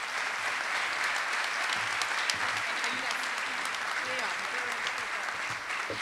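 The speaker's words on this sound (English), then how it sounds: "I'm going to ask us to do one more big round of applause" An audience claps loudly and continuously at a school convocation, sustained applause with no break.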